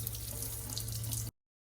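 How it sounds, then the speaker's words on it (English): Peeled fruit is rinsed under a running tap, a close, steady hiss of water splashing into a sink that stops abruptly when the tap is shut off. "Now I'm just gonna wash it with some water to take off any spikes that might have gone kind of on the actual flesh."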